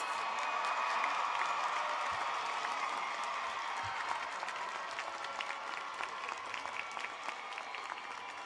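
Sustained applause from a large commencement audience of associates, alumni, parents and friends standing for Brown College degree candidates at Rice University, steady and dense throughout with faint crowd murmur.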